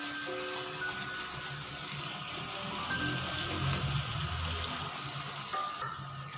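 Onions fry until golden brown for achari chicken, a steady, even sizzle that hisses continuously throughout, close and moderately quiet, with faint clinks of stirring.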